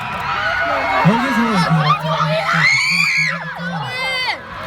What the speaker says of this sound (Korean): 지금만큼 함성으로 놀아주셨으면 좋겠습니다